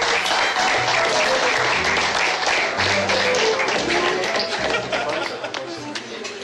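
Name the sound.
applause for Montpellier rugby team in stadium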